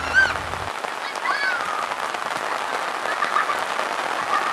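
Heavy rain pours steadily onto surfaces during a downpour in General Santos, making a dense, continuous hiss of drops with no break across the whole stretch.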